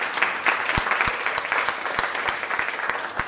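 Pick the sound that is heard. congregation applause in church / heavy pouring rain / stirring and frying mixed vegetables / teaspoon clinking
congregation applause in church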